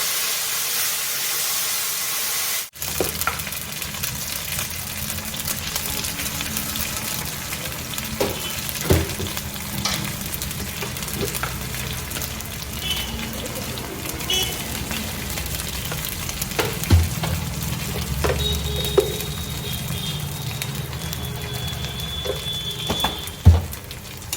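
Bori lentil dumplings fry with spices in a pan, giving a long, even sizzling hiss with occasional clicks and stirring knocks. A loud burst at the very start drops into a steady fry.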